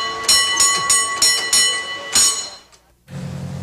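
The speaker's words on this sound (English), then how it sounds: "give the cable car gong a San Francisco's own pitch" A San Francisco cable car gong rings out in about six bright, ringing strikes in quick succession. A low rolling rumble from the moving car follows.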